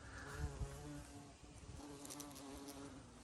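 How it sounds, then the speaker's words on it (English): Big bumblebees and wild bees buzzing around aquilegia flowers in a country cottage garden, a faint continuous droning hum close by with no talk. "Look at these beautiful big bumblebees, wild bees."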